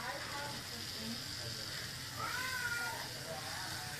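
A pet cat meows a few times at low level against a steady background hiss, the calls drawn out and somewhat faint.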